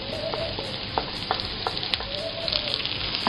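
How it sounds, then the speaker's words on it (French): Small vegetables sauté in a pan with garlic and shallot for a risotto, crackling with a steady close sizzle punctuated by several sharp utensil clicks and stirring taps. "j'ai mes légumes qui sont en train de revenir, délicatement"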